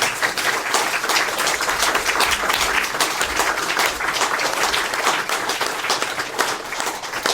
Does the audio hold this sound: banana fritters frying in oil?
no